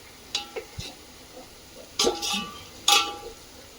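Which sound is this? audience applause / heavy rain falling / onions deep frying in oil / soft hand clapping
onions deep frying in oil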